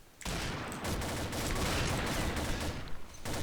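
Rapid bursts of gunfire from the Combat Arms video game, loud and dense, sustained for several seconds with no talking.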